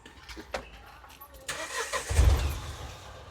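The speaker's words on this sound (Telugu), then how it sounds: "ఒకేసారి ఇంజన్ ఆన్ చేస్తారా" A Mahindra Veero's engine cranks and fires midway through, then settles into a rough close idle, with people talking nearby.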